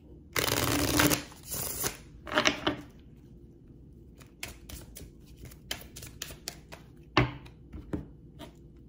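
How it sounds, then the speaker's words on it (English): Tarot cards riffled and shuffled by hand, a dense burst of flapping card noise followed by scattered crisp taps and slides as the deck is handled, close and clear with no talk. "I'm going to shuffle them first just so I can run through each sign"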